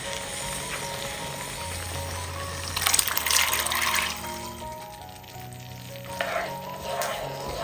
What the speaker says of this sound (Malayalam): ഈ ഒരു സമയമാണ് നമ്മൾ കടല വേവിച്ചത് ആ വെള്ളത്തോട് കൂടി തന്നെ ഒഴിച്ചു കൊടുക്കാം